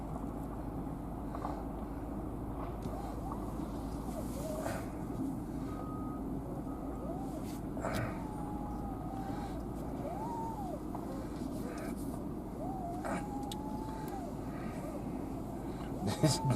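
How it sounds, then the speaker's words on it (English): A Ram Power Wagon pickup fitted with front and rear lockers idles and drives slowly, giving a steady low engine hum with faint intermittent tones above it and no clear speech. "Let me drive around some more."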